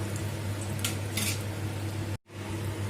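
Moong dal and spinach vadas frying in oil and being turned make a steady close sizzle with a low hum beneath and a couple of soft scraping touches, broken by a brief dropout near the end.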